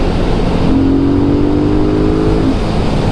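A car in sport mode revs its engine hard toward about 5,000 rpm, a loud continuous rising engine note heard from inside the cabin, with no talking.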